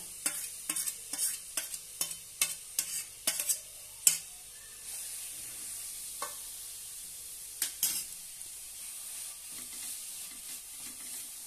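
Grated bottle gourd frying in ghee for kheer, with a quick run of sharp spoon-against-pan stirring taps, then quieter sizzling and a few occasional scrapes, no voices.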